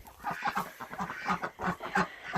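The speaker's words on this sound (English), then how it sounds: "So we have 3 laying ducks and a drake." Three laying ducks and a drake by their coop in a spring garden, giving a steady run of nasal quacks and honking calls. The calls come in an uneven rhythm, close by and moderately loud, with no talking.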